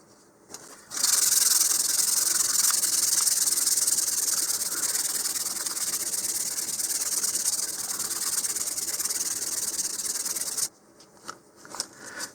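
A model rocket is sanded with 220 grit sandpaper, a close, continuous hissing rub lasting nearly ten seconds, steady and bright throughout, with no voices.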